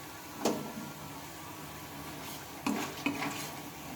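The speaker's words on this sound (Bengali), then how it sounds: "এগুলো ভাজতে বেশিক্ষণ সময় লাগবে না দেখবে তোমরা ভীষণ তাড়াতাড়ি এগুলো ভাজা হয়ে যায়" Kucho nimki, small Bengali fried dough snacks, frying in oil: a soft continuous bubbling sizzle with a few sharp metal utensil clinks against the pan, fairly quiet and close.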